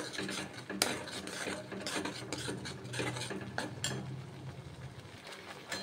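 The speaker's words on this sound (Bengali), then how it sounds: "দেখুন কড়াইতে আমি দিয়ে দিয়েছি পাল্পটা, আর একটু এইভাবে নেড়ে নিতে হবে" Fruit pulp is stirred in a wok with a spatula, giving a steady close scraping and rubbing with soft clicks, fairly quiet and without talk.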